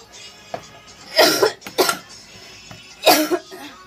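A woman coughing in a kitchen while making tea with milk and sugar: three harsh, close coughing bursts with short pauses between, louder than the quiet background.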